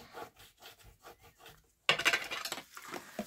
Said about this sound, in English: give her a rub down